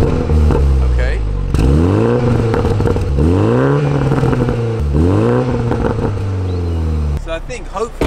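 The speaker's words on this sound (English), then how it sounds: "Should we give it a bit of a rev?" A new BMW Z4 in sport mode, warmed up, revved three times from idle, each rise a rising engine roar that falls back, loud and close with a brief crackle at the end.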